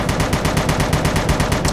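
Rapid automatic fire from an M4 rifle in a modded video game with an HD weapons mod, a steady, loud stream of evenly spaced shots with no pauses.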